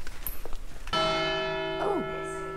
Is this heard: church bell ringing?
yes